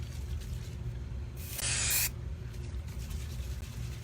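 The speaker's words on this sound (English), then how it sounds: "It's just like using a can of spray paint." One short, loud hiss of a Velvet Sprayz aerosol can spraying, about half a second long, close up over a low steady room rumble.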